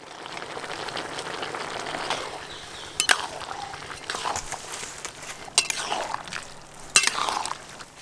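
Fried fish heads and soaked raw chickpeas stirred together in a pot over a village clay stove, with soft wet shuffling and several sharp clinks of a spoon against the pot.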